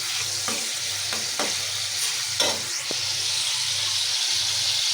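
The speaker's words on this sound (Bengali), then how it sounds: "এদিক দিয়ে পেঁয়াজ কষাইতেছি" Onions sizzle steadily in a hot pan, a continuous close hiss with a few brief clinks and scrapes of stirring.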